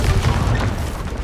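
A Confringo spell explosion in Hogwarts Legacy on PS5 lands as a loud, dense, close boom with a crackling burst, filling the short moment on its own.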